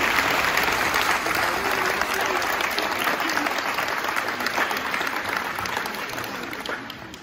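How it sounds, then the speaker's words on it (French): An audience at a gathering applauds, a steady, dense wash of many hands clapping that fills the room and fades slightly toward the end. "vous pouvez déjà vous applaudir pour cette performance en fait collective"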